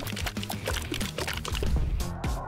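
Pepsi fizzes and pours from a can, a continuous bubbly liquid gush with sloshing, fairly loud and close, with no talking over it.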